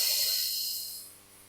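A steady Pilates exhale blown out through pursed lips, like breathing through a straw, heard close up as a soft breathy hiss that fades over about a second and a half.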